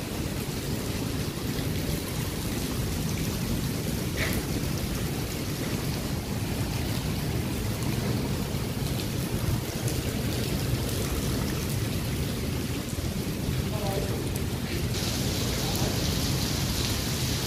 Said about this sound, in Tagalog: malakas-lakas po ang ulan